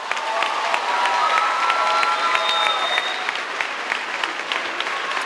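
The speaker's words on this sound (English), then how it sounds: "So how about one more applause for all these young." Applause and cheering from the audience at an 8th grade school promotion ceremony, a sustained, even roar of many clapping hands with scattered cheers, loud and unbroken throughout.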